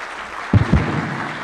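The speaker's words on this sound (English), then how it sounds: "A round of applause for His Excellency" A brief burst of applause at a Kenyan presidential lunch for the national football team, a few loud claps rising from a quiet room and fading into a soft patter.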